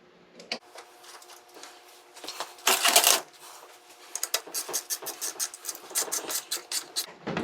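A small 1/4 inch ratchet snugs a bolt on a 47/48RE transmission servo during a DIY kit install, giving a run of quick, sharp clicks that grow into a steady rhythmic series in the second half, close by, after a brief louder scrape.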